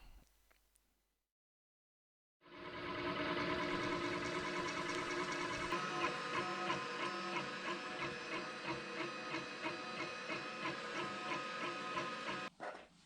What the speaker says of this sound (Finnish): tämä tulostin tekee tämmöisen raftin tänne, tai tämmöisen pohjalautan, että se tarttuu siihen